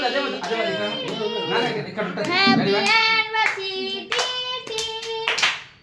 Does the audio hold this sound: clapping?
yes